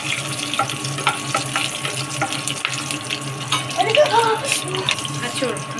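Halved green chilies and curry leaves hit hot oil in a pan, giving a steady close hiss and crackle with faint clinks, partly under a voice.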